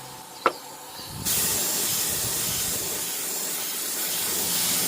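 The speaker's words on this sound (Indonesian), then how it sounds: "Kita semprotkan pada bagian." Two-component NC silver paint from a spray gun onto a wheel rim, a steady close hiss starting abruptly and continuing loudly after a brief sharp click.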